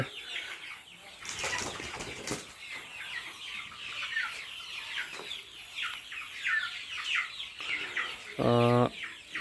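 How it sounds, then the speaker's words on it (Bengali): Chickens in a poultry shed holding about 2,400 birds give off steady clucking and the flutter of wings, a busy close-range flock murmur with a brief louder squawk near the end. "এখানে হচ্ছে আমার চব্বিশশো পিস মুরগি আছে"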